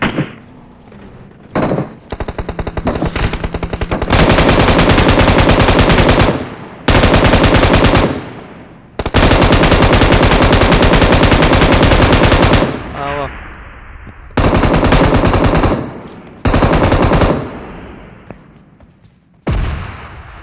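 Heavy automatic gunfire in PUBG Mobile's heavy weapons mode comes in several long, loud, rapid bursts separated by short pauses, with a few single shots and background game sounds in between.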